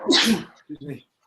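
A single loud, close sneeze bursts out with a sharp, breathy hiss, followed right after by a brief spoken reply in a quiet room.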